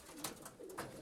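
Pigeons coo softly in a short run of low, throaty calls, faint and close together, with no talk over them.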